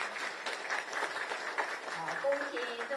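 A crowd at a Kuomintang chair's visit to Zhinan Temple claps in a dense patter, moderately faint and sustained over three seconds, with a voice speaking over it.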